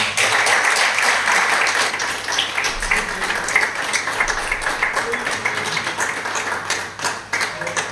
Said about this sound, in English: I think you deserve that applause.